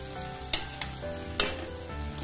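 Pointed gourd (parwal) tipped into masala in a pan, a steady close sizzle of frying punctuated by a few sharp clinks and scrapes of stirring, no speech.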